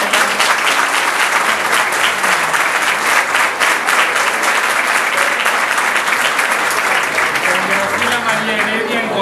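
A hall full of people applauds a teacher at a secondary school's golden anniversary celebration, with steady, dense clapping that stays loud and even from start to finish.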